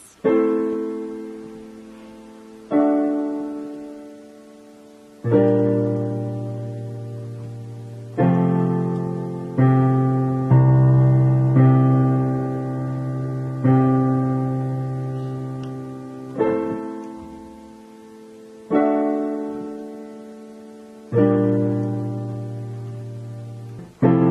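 Solo piano plays a piece from BBC Sherlock, a slow melody with chords, each phrase struck clearly and left to ring and fade before the next, with no voices.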